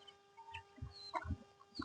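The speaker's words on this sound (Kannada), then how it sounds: "ನೋಡಿ ಮರಿಗಳೆಲ್ಲ ಯಾವ ರೀತಿ ತಿಂತ ಇದೆ ಅಂತ." Native country chicken chicks peck and cheep softly while feeding, with scattered faint chirps and low clucks close by, quiet and irregular.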